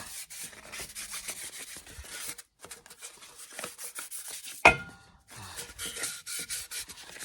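Fine-grit sandpaper, around 1,500 to 3,000 grit, rubbed by hand over a Dodge transfer case part, making a steady run of close, raspy back-and-forth strokes with short pauses and one sharp click partway through.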